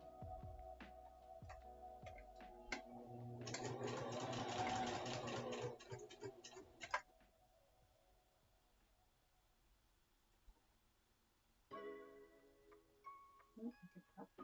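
A sewing machine stitches appliqué stars in a rapid mechanical whir lasting a few seconds, followed by quieter handling, then a second shorter burst of stitching near the end, with faint talking in between.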